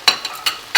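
A slice of butter sizzles in a hot pan against a quesadilla, with short bright bursts of hissing and scraping at a few irregular moments, close and fairly loud.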